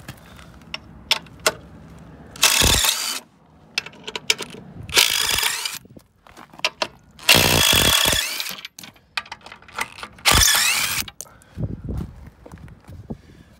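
An aluminum support piece being pulled off a horse trailer bumper: repeated loud bursts of metallic ratcheting and scraping, separated by quieter clicks and clunks, close up with no talk.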